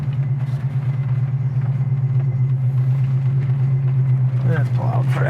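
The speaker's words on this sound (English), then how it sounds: "I'm gonna go through the gears one more time just because it's fun." A 1970 Oldsmobile 442 drives and shifts through its gears, a loud, steady low engine drone running continuously from near, with a brief rise in pitch toward the end suggesting a shift.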